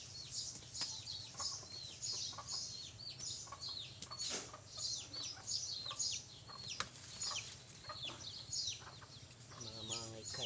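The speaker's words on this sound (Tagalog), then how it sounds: "Ayan na po yung mga manok na" Several chickens cluck and call repeatedly at a moderate distance, with a soft steady hum underneath and occasional chirps.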